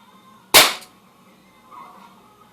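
A single sharp crack from a Crosman 2100 pellet gun firing a wadcutter target pellet, loud and close against a quiet background, with a faint thud a moment later.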